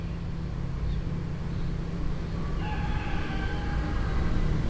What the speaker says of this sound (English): Are they cock-a-doodle doing?